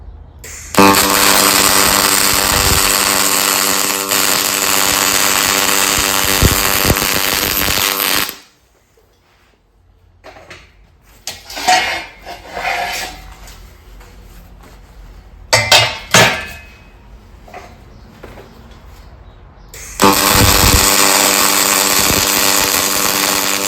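Welding a steel firewood bundling stand outdoors: a long loud crackling arc burst, a quieter gap with clanks and taps of metal, then a second sustained crackling weld starts near the end.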